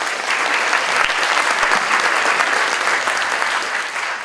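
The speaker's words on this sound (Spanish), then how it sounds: "un aplauso para él." Audience applause at an education policy seminar, a steady wash of many hands clapping at even loudness for about four seconds, with no speech over it.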